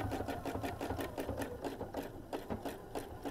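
A sewing machine running steadily while stitching quilt-as-you-go fabric hexagons together with a single hole thread plate, giving a fast, even mechanical chatter with rhythmic needle clicks, close and alone without talk.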